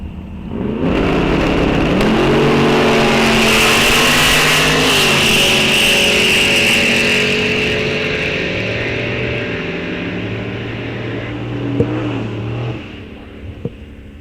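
A 1968 big-block Chevrolet Camaro launches at a drag strip, its engine roaring loud and close, climbing through rising pitch sweeps and gear changes before fading into the distance, followed by a couple of sharp clicks near the end.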